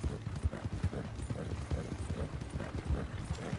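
Horse hooves clip-clop at a steady gait in the video game Red Dead Online, a rhythmic muffled thudding that runs continuously, close and moderately loud with no talk over it.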